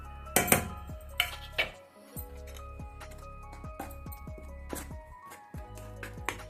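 A spoon mixing cumin, coriander, chili, black pepper and black cumin powders in a bowl, with sharp metallic clinks and scraping taps in an irregular rhythm, close and clear without speech.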